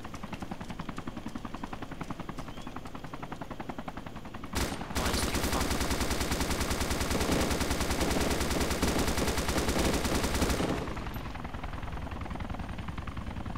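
Gunfire in the video game DayZ Epoch, a rapid automatic burst lasting about six seconds, loud and continuous over a steady helicopter-like drone that runs throughout.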